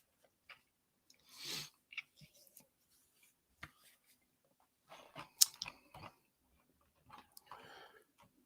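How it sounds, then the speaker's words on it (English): Someone eats at close range, with scattered soft wet slurps, chews and mouth clicks separated by quiet pauses, faint and intermittent. "making horrible slurping noises"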